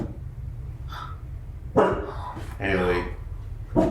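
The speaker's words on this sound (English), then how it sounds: "That's actually a behemoth in distress." A behemoth creature in distress in the Final Fantasy XVI video game, giving a few short barking, whimpering cries over a constant low game rumble, with fairly loud bursts near the middle and end.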